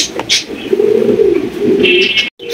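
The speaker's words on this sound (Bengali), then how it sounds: "এখানে রয়েছে একজোড়া লাহোরি কবুতর" A pair of large Lahori pigeons coo close by in a deep rolling rhythm, with brief wing or movement noises and a sudden cut near the end.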